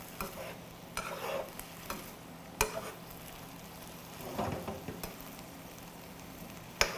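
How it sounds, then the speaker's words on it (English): Ground beef in big chunks fries in a pan, sizzling softly while being stirred, with intermittent scrapes and sharp clacks of the utensil against the pan. "And we're just going to continue stirring."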